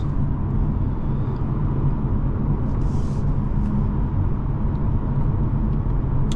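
A 2024 Audi A4 45 TFSI Quattro accelerating hard in a 0-60 run, heard as a steady, low, continuous engine and road rumble from inside the car, with no speech.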